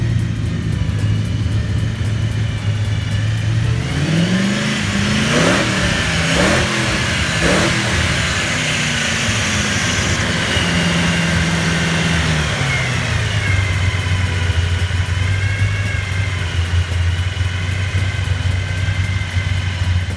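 A carbureted V8 in a 1961 Corvette idles with a deep rumble, then revs up in several sharp bursts before settling back to a loud, steady idle.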